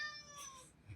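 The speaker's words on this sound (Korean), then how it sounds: "중간중간에 고양이 소리가 나도 조금 이해를 해 주셨으면 좋겠어요" A house cat gives a single short, quiet meow close by, indoors in a room where someone records a Blender tutorial, with no other talk.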